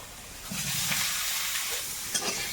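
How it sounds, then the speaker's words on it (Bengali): Onion and potatoes frying in hot oil over a clay stove, a steady broadband sizzle and hiss that holds at an even level throughout, with no talking. "তেলের মধ্যে একটু পেঁয়াজ দিলাম এবার আলু কটা ভেজে নেব"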